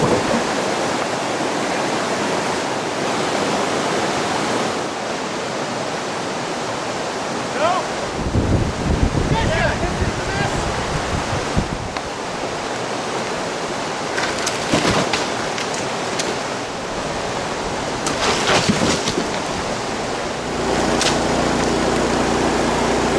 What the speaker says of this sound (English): We're using the Keene 173 extended sluice.